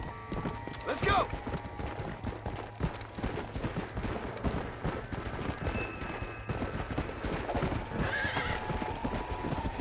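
A pale horse in the video game Red Dead Redemption Undead Nightmare neighs twice over a steady run of clopping hooves, close and continuous, with game ambience behind.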